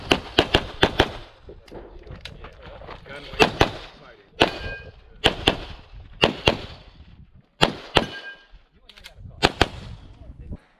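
Rapid pistol fire from a CZ Tactical Sport on a shooting range, loud sharp shots arriving in quick bursts of two to four with short pauses between strings, and a few brief range commands spoken between them.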